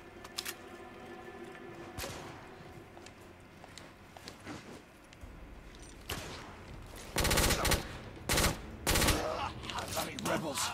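Gunfire from a heavy-recoil gun in The Order: 1886, scattered shots early then loud rapid bursts of automatic fire toward the end, with game voices faintly underneath.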